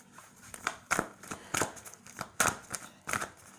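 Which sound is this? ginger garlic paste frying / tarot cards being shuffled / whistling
tarot cards being shuffled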